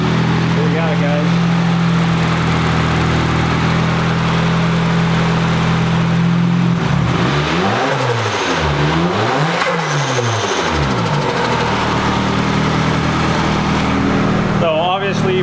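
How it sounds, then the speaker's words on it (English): Turbocharged KA24DE-T engine in a Nissan 240SX, fitted with a coil pack conversion in place of the distributor, idles steadily and loudly, then gets a few rising and falling revs in the middle before settling back to idle. "it sounds really good and it's running just like it did before when it was on distributors"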